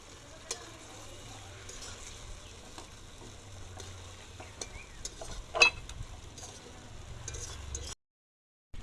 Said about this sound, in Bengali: মাছের গায়ে মশলাগুলোকে ভালো করে নাড়িয়ে নেব